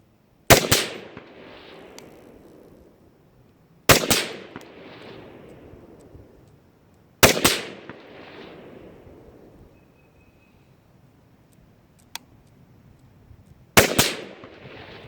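Four loud, sharp rifle shots firing 5.56 XM193 rounds at an outdoor range, spaced a few seconds apart, each with a crisp crack and a fading echo tail, with no talk.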